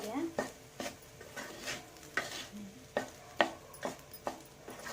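Egg rice with pepper powder being stirred in a pan, a spoon or spatula scraping in repeated sharp strokes over a soft sizzle, close and moderately loud with no talking.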